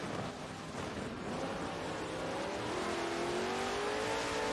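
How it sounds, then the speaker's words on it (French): A Lamborghini Huracan and a Ferrari GT3 racing at Silverstone in a video game, engines droning and rising steadily in pitch as they accelerate, a continuous roar without talk. "La Huracan passe à la Ferrari."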